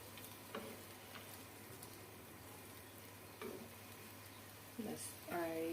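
Tomatoes simmer in a fish curry sauce in a home kitchen, a soft steady sizzle and bubbling with a few scraping stirs of a spoon against the pot, quiet and close.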